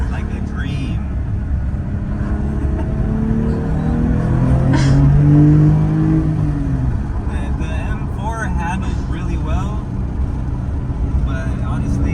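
A 2025 Porsche 911 Carrera T pulls hard through an acceleration run, its engine note sweeping up and swelling loud near the middle, steady road and engine roar throughout with people talking over it inside the cabin.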